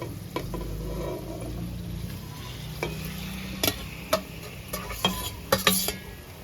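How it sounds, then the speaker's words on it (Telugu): Chicken going into a pan of frying ginger garlic paste, a soft background sizzle broken by several sharp clinks and stirring scrapes, growing busier toward the end. "అల్లం వెల్లుల్లి బాగా ఫ్రై అయింది చికెన్ వేసుకుంటుండా"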